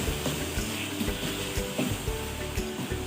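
Guar beans with green chillies and coriander stirred in a hot oiled pan, a steady close sizzle with scraping turns of the spoon running throughout, no voices.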